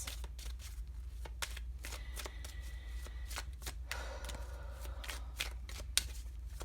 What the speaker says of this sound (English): I'm going to pull some romance oracle cards